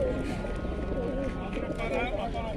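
Pigeons at a bird and poultry market in Ganja, soft cooing and fluttering amid market bustle, with people talking nearby.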